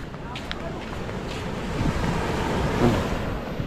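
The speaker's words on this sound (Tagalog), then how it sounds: "Ah, may alon din pala din na." Sea waves roll onto the shore at Natipuan, a steady low wash mixed with gusting wind buffeting the microphone, with faint voices underneath.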